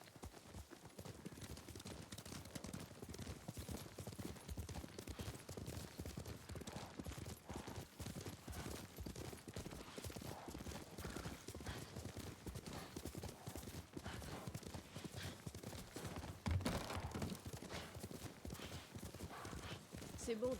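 Horse hooves clip-clopping in a steady trotting rhythm while riding in Ghost of Tsushima, continuous and close, with voices talking over the hoofbeats.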